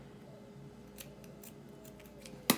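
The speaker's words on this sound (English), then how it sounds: "I just cut a very tiny bit because I don't want to cut the fibers that have sort of attached themselves" Scissors snip through the tie on a nylon-wrapped wet felting ball, a single sharp cut near the end after a few faint rustles in a quiet room.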